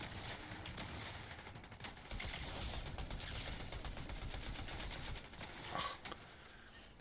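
Players shooting in a video game, a dense continuous rattle of rapid gunfire, fairly loud and steady throughout with a few sharper cracks near the end.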